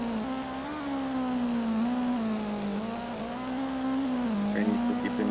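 Race car engine in Gran Turismo holds a steady, loud drone with a tire-squeal edge as the car drifts through oversteer, continuous and close throughout with slight pitch swells.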